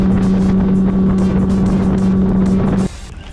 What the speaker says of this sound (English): we're having to use a pull cord because either the solenoid or the starter went out whenever I was trying to crank on it